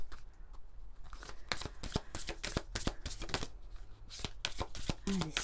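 Oracle cards are shuffled by hand in a quick series of crisp, close riffling and slapping bursts that repeat steadily throughout, with no talking.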